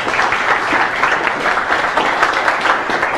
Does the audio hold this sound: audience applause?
yes